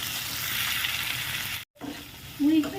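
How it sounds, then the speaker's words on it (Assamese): Onion and tomato frying in a pan over a low gas flame, giving a close, steady sizzle with a brief silent break, then resuming with some stirring sounds. "এইদৰে ভাজোঁতে মই গেছৰ ফ্লেমটো একেবাৰে কমাই লৈছোঁ।"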